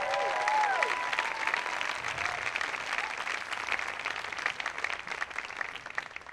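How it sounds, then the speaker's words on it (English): Outdoor concert crowd in a Florence garden applauding a couple's 33-year anniversary, sustained moderate clapping with a brief whistle near the start, easing slightly toward the end. "Round of applause for 33 years."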